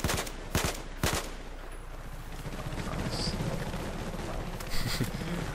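Gunfire in Battlefield 4 strikes a rock as a few sharp shots crack near at the start, followed by a lower rumble of distant firing and one more shot near the end.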